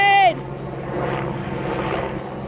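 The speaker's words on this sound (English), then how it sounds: "look. It's an airplane." An airplane drones overhead as a steady, moderately loud rumble that swells and fades slightly in the woods, after a brief tonal sound at the start; a person speaks over it.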